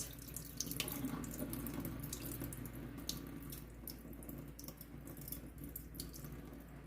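Tap water runs steadily into a kitchen sink while rice is rinsed, a soft, constant splashing stream with faint drips, fairly quiet and with no voices.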